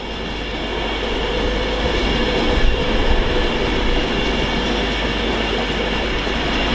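An Avanti Pendolino class 390 train passes through Stafford station, a loud, close, steady roar of wheels and rail noise with faint clickety-clack, and no voices.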